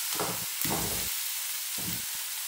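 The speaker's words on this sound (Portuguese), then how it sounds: "Vou dar uma refogada aqui no jiló" Jiló (scarlet eggplant) sautéing in a pan, giving soft frying sizzle in a few bursts, as if stirred, with quieter gaps between.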